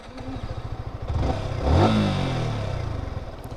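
A Yamaha R15M Carbon 150cc sport motorcycle engine idles with a pulsing close rumble, then revs up in one swelling throttle blip before dropping back to a steady idle; no voices.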